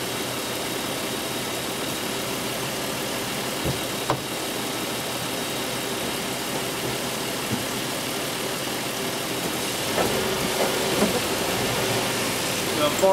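Chrysler Pacifica engine running in gear at about 7 mph, a steady low hum from a distance under broad noise, with a few faint knocks.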